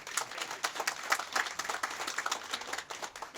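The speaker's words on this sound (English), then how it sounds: "Give another round of applause," Moderate audience applause at a police memorial ceremony, a mix of distinct individual claps forming a steady patter from a modest crowd, fairly close and without speech.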